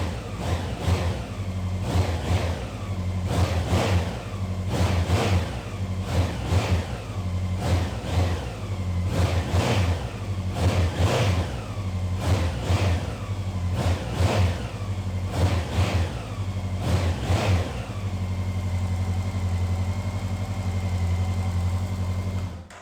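The engine of a 2019 Honda CB1100RS, an over-liter classic motorcycle, is blipped repeatedly from idle: about a dozen sharp rhythmic revs, close and loud, before settling back to a steady idle.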